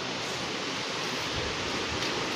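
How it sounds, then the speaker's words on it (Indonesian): A river flowing below a villa's gazebo produces a steady, close, continuous rushing of water, alone without any voices. "Nah, di bawah situ ada sungai."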